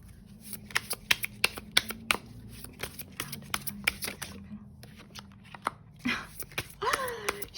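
Tarot cards being shuffled in a quiet room, a run of sharp riffling snaps and slaps, some in quick bursts and others spaced out, close and fairly soft.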